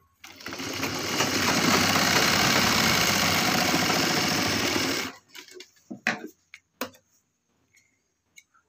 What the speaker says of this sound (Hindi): इसको हम सिलाई लगा के बंद कर देंगे।